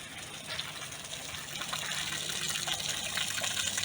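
Steady rushing water pours continuously out of a wall, growing slightly stronger partway through, with no voices.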